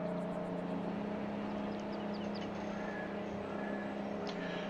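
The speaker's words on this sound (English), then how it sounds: "At least the engine sound on this one's good." A vehicle engine in the video game Farming Simulator 22 drones steadily at a constant low pitch, loud and close, with a faint whine above it and no talking.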